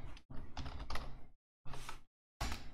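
Random text is typed on a computer keyboard as quick, close bursts of clattering keystrokes, separated by short silent pauses.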